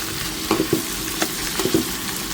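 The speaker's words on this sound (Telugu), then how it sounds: "ఇవన్నీ నెయ్యిలో ఫ్రై అవుతా" Ingredients frying in ghee in a pan while cooking outdoors, a close crackling sizzle with a few soft stirring knocks and no talking.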